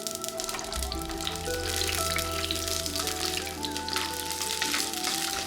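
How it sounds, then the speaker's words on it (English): Shallots, garlic, green chillies and curry leaves sauté in hot coconut oil, giving a steady, dense sizzle and crackle throughout under a continuous layer of background music. "I heated some coconut oil and sauteed shallots, garlic, green chillies and curry leaves"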